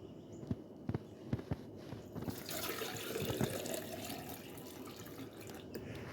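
Watering can being filled with water for garden flowers, preceded by a few soft footsteps and knocks, then a steady faint splashing stream running for several seconds.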